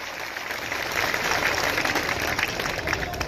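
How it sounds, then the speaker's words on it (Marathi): Crowd applause at a Maratha community consultation meeting in Mohol, a broad, steady wash of clapping from a large gathering that swells slightly near the middle and holds loud throughout. "त्या सर्वांसाठी एकदा टाळ्यांचा कडकडाट करा"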